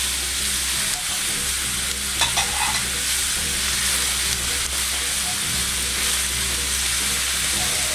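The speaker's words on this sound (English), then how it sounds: "I'm going to go ahead and toss in the meat" Kielbasa sausage meat sizzles in a pan alongside peppers and onion, a loud, continuous frying hiss with occasional stirring scrapes.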